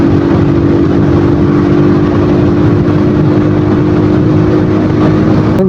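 Motorcycle riding on a muddy, potholed road in cloudy weather, a loud constant engine drone with steady rumble and wind noise, close and continuous without talk.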